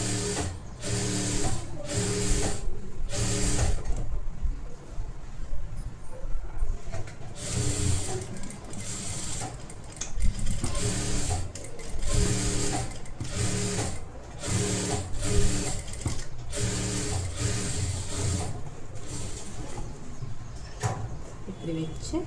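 A sewing machine stitches around the curve of a blouse collar, its rapid needle clatter running in close, steady spells with brief stops, while someone talks over it.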